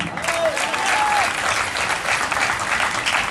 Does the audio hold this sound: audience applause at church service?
yes